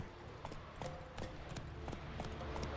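Roach, a horse in The Witcher 3, gallops in a fast, regular clip-clop of hooves, fairly close and moderately loud against a low ambient bed.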